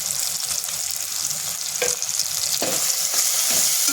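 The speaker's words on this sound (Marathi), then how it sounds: "छान परतून घेऊयात आपण हे सगळं" Turmeric, goda masala, chilli powder and asafoetida sauté in hot oil in a pan, giving a dense, even sizzle. A few distinct scraping stirs cut through near the end, with no talking.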